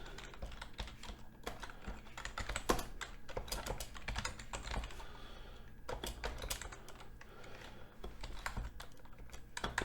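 Steady, fast typing on a computer keyboard while writing code, close and continuous clatter of keys with small pauses and a few louder strikes, no speech over it.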